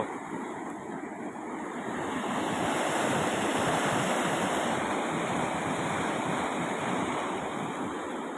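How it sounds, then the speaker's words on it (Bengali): Fast water rushing through an irrigation channel built for jhum farming, a steady broadband roar that fills the whole clip up close, with no voices. "আওয়াজটা শোনা, শুধু আওয়াজটা, জলের স্পিড কত।"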